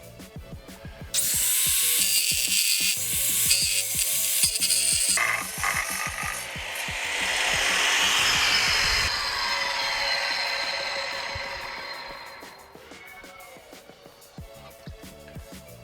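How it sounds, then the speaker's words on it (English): Tile saw ripping porcelain tile, the motor whining as the blade bites into a loud, gritty cut that swells, holds for several seconds and then tapers off, with the saw spinning down at the end. "Let's rip this porcelain."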